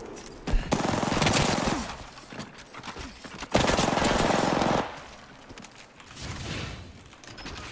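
Rapid automatic gunfire in the video game Apex Legends, two long dense bursts of shots close and loud, followed by quieter scattered fire and a brief softer burst near the end.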